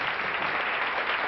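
An audience applauding on stage for Aldous Huxley, a dense, steady roar of many hands clapping, loud and continuous throughout.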